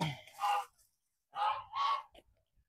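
Geese on a small home farm honking, three or four nasal calls in two close pairs, moderately near but fairly quiet.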